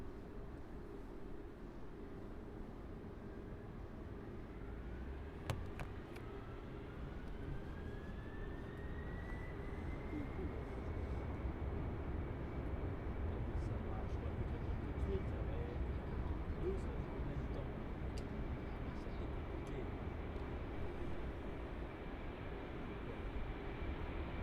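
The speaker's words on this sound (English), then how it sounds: "next on approach is Air France flight 1127 arriving from Venice. It's an Airbus A320." An Air France Airbus A320 airliner on approach at Paris Charles de Gaulle airport, a distant faint engine whine that gradually rises in pitch and then holds steady over a broad rumble, with a brief click partway through.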